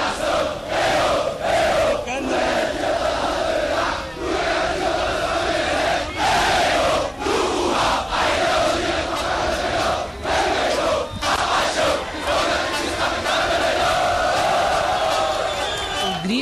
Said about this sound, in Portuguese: Gritos, aplausos e coro para os jogadores que conseguiram superar o descrédito e conquistar o acesso à elite do futebol.